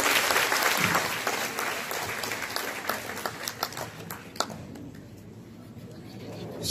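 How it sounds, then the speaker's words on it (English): An audience at a diocesan Day of Consecration gathering applauds to welcome Bishop Honesto Ongtioco, a steady wash of many hands clapping that thins out toward the end. "Let us give him a round of applause."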